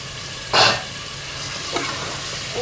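Rooster meat for pulao sizzles and fries in a pan under a steady hiss, with two brief stirring scrapes, the first louder, close up.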